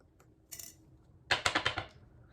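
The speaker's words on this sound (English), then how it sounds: "Now I have to stir together." Spoon clinking against a bowl while a spice mixture is stirred together, a brief tap then a quick run of five or six close, bright metallic scrapes and clinks, heard alone.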